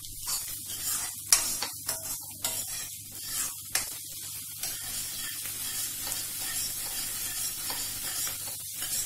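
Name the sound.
onions sizzling and frying in oil while stirred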